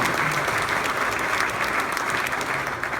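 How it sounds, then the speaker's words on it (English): Applause from a crowd at an evening event at the Petersen Automotive Museum, a dense, even roar of clapping that holds steady and loud throughout with no voices over it. "so a round of applause for Jim and the Toyota Grand Prix of Long Beach"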